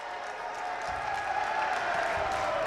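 The Wayne Hills crowd and bench cheer and applaud at a high school basketball state playoff game against Tenafly North, a steady, dense roar of clapping and voices filling a gym, swelling slightly as it continues.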